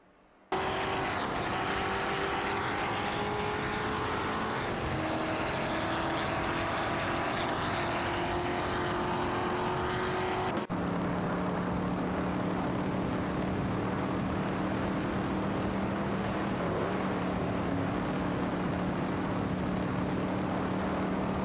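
Race cars scream past in a continuous, high-pitched engine drone with shifting pitch, loud and steady for the whole stretch, with one abrupt cut to a lower, rougher engine tone partway through.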